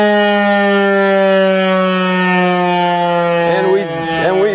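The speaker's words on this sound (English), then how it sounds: "We do have a civil defense tornado horn in our backyard." A civil defense tornado siren wails loud and steady, holding one pitch before sliding down near the end, heard outdoors from a nearby backyard.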